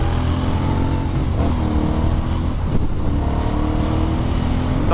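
An Aprilia Shiver 900 motorcycle, restricted to 47 hp, runs at close range with a steady engine drone and a couple of rising rev swells, its exhaust crackling and popping under the throttle.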